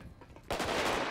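Enemy gunfire in GTA 5, a modded zombie apocalypse game: after a brief quieter moment, a sudden burst of rapid automatic shots erupts loud and close, continuing as a dense volley to the end.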